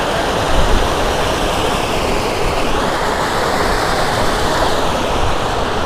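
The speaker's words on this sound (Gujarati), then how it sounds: "નદીનું પાણી અત્યારે જે આવી રહ્યું છે તેનો પ્રવાહ" River water rushes over rocks in the Kadiya Dhro canyon in Kutch, a steady, loud, unbroken roar of flowing water with no pauses and no voices.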